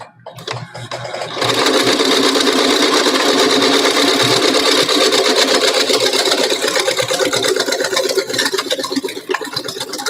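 A sewing machine runs steadily and loud, close up, back stitching a fabric face mask, with a brief start and stop at the beginning before a continuous whirring run.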